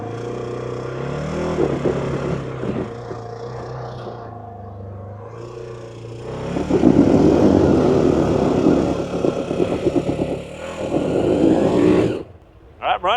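Polaris Xpedition UTV climbing a steep hill in high range, two-wheel drive with the differential locked. The loud engine drone rises and strains as it pushes upward, then cuts off abruptly near the end.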